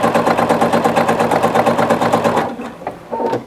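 A sewing machine stitching fabric for a placemat with a pocket, running in a fast, steady motor-driven chatter up close for a couple of seconds, then stopping with a few brief clicks and a short final burst.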